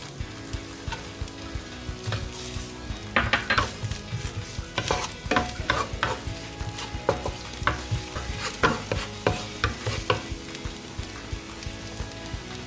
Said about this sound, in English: While our garlic is frying